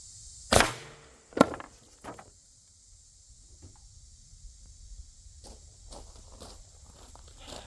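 An HDR .68 caliber less-lethal carbine fires, giving a sharp, loud pop and then a second crack about a second later. Faint handling noises follow over near-silence.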